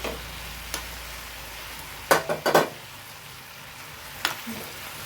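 Chicken lollipop ingredients are mixed in a pan on the stove, with a low sizzle and a brief cluster of loud spoon scrapes and clinks against the metal, then one more tap.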